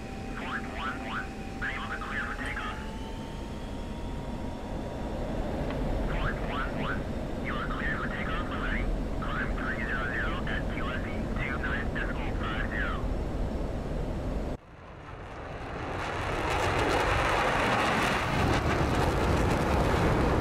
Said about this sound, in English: I'm gonna do a rolling takeoff.